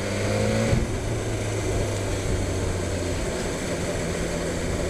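A 2022 BMW S1000XR motorcycle cruising at 3,000 RPM and 30 mph: a steady low engine drone mixed with heavy wind rush, continuous and even throughout.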